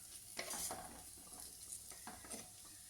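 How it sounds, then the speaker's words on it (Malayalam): Raw mango curry with masala is sautéed in oil, giving quiet scraping stirs over a gentle continuous sizzle, faint and close. "ഞാനിത് നല്ലപോലെ ഒന്നും കൂടി വഴറ്റി കൊടുക്കുന്നുണ്ട്"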